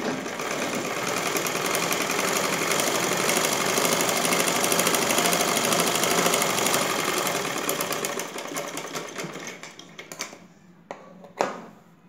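A sewing machine stitching blouse fabric runs in a steady, rapid, close mechanical whir for about eight seconds, then slows into short bursts and a few separate clunks as it stops.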